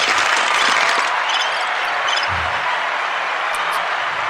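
A crowd roars and cheers continuously, a loud wash of many voices with a few scattered louder shouts and thumps mixed in.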